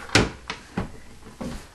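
A bedroom dresser drawer slid open with several short wooden knocks and scrapes, close and fairly loud, with no talk over it.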